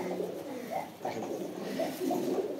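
An Arabian Black Coca pigeon, a pure black male, coos in a series of soft, low, rolling calls at close range, repeated steadily with no talk.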